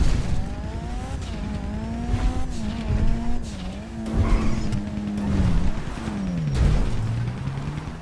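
An armored car driven in GTA V rumbles with a steady engine drone whose pitch rises and falls as it speeds up and slows, with tire squeals and skids mixed in, loud and continuous throughout.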